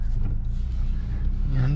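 A 2022 Infiniti QX55 crossover pulls away from a stop, its engine note rising in a smooth, close rev under the cabin hum, while a person talks over it.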